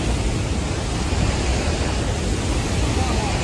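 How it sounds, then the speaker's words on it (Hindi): Floodwater rushing into a temple in Kullu Manali, a dense, steady, loud roar of churning water filling the whole scene without pause. "यहाँ देखो भाई मंदिर में घुस गया है पानी पूरी तरह"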